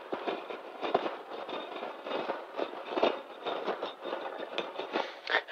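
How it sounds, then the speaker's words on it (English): Scratching on a scalp for ASMR, close crackly rustling in irregular rapid bursts, sounding like distant popping fireworks, with no talking. "This one right here, just imagine me scratching your scalp."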